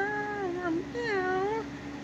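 A person's voice imitates a cat meowing, giving two drawn-out, wavering meows in a row, close and fairly soft, over a low steady background hum.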